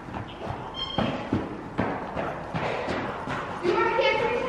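Horse hooves clip-clop at a trot in an arena with jumps set up, steady thuds repeating close by while people talk over them.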